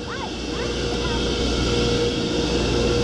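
A construction crane's heavy engine drones steadily and loudly up close, a constant low rumble with a few faint higher chirps over it.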